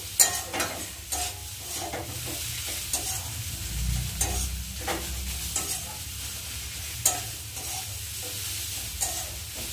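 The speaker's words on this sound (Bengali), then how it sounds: "ছাড়ানো মাছগুলো দিয়ে দেবো ভালো করে খুঁটি দিয়ে দিয়ে ভেজে নেব" Deboned fish being fried and worked in a pan with a spatula, repeated scraping and poking strokes over a continuous gentle sizzle, close and steady, without any talking.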